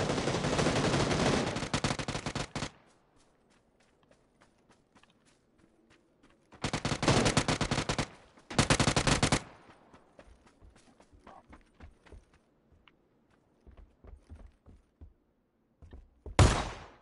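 Bursts of gunfire in the battle royale game PUBG, loud and close, coming in separate volleys with quiet gaps between them and a last short burst at the end.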